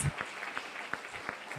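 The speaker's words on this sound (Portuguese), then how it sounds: "Aplaude a Deus, aplaude." A church congregation claps in a slow, regular rhythm, distinct sharp claps evenly spaced about a third of a second apart, fairly quiet and set against a faint room background.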